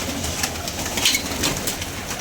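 Pigeons in a large coop flock of around seventy birds, cooing and fluttering in a dense, steady wash of noise, close and fairly loud with scattered sharper bursts.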